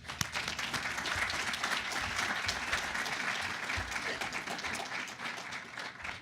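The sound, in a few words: audience applause for engineering students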